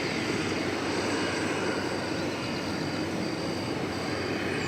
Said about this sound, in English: You see there, UPS Flight 2711. It's a 757 going to Ontario,